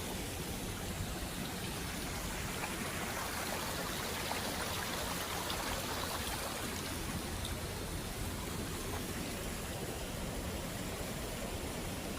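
A waterfall near a road cut by an artesian well in Alabama pours in a steady, faint hiss of rushing water, continuous and unchanging with no voices.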